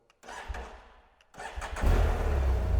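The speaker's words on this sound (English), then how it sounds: "we're actually going to try to start the bike" A 2017 BMW F 800 GS Adventure motorcycle cranks with the starter, pauses, then cranks again and catches, settling into a steady, close, loud idle rumble.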